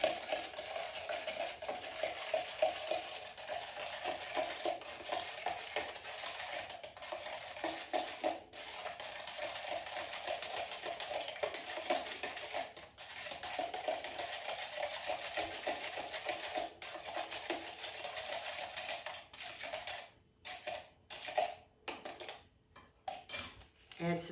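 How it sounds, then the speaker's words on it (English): A spoon gently swirls a kitchen chemistry reaction of vinegar in a container, giving a steady soft scraping and clinking stir that runs continuously, with a few sharper knocks near the end. "Now we're going to gently swirl until the reaction is complete."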